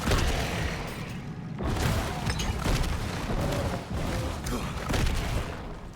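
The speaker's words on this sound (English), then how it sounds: "killing beasts made of fire with a fiery explosion" Fiery explosions in Diablo IV erupt in repeated booming bursts, several loud blasts with crackling fire and combat noise layered over a dense game soundtrack.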